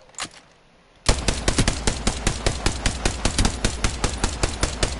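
Video game gun firing full auto: after a brief quiet pause, a loud, steady rapid stream of shots, about five per second, close and unbroken until the end, with no talk.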